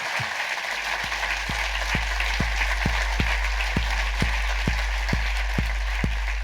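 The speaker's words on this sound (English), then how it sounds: "give a massive round of applause." Applause from a live podcast audience at the close of a comedy chat show recording, a dense steady wash of clapping with regular low thumps underneath, loud and sustained throughout.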